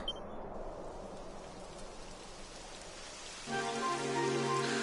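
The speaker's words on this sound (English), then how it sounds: "It would have to go and start raining, wouldn't it?" Steady rain falling with a soft broadband hiss, joined midway by a louder tonal layer that stays on to the end.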